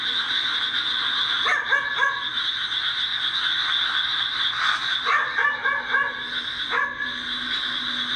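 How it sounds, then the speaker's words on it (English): A dog barks at night in a graveyard, several short sharp barks in two or three clusters, moderately distant, over a constant high insect or frog chorus. "he decides to film as he searches for the barking dog"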